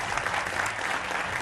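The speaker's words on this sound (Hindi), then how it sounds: "तालियों के साथ स्वागत कीजिए।" Studio audience applause greeting an RJD spokesperson as a guest on a Hindi political TV debate show, a dense, steady wash of many hands clapping at even loudness throughout.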